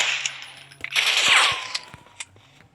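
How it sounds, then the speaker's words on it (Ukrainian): Video game gunfire: scattered sharp shots, then a louder burst with a whooshing, whining tail, followed by a few more isolated bangs. "Тобто він стріляє в бік."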